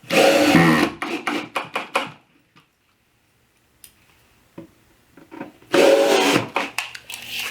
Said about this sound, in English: And I'll drive some 2-inch screws in, or 1 3/4 screws.